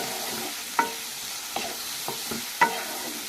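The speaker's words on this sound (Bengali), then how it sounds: "এখানে আমি নাড়াচাড়া করে নিচ্ছি" Ingredients for a watermelon-rind dish being stirred as they fry in a pan, a steady soft sizzle broken by a few distinct scraping clinks of the spoon against the pan.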